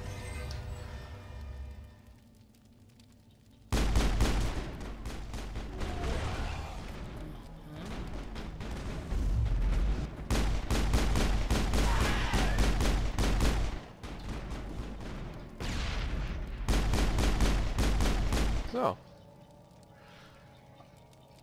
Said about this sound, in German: So, wenn wir gleich mal eine Granate ausprobieren.